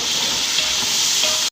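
Garlic and ginger paste sizzles steadily while being stirred in a hot pan for an egg biryani, a dense continuous frying hiss close up, cutting out abruptly at the end.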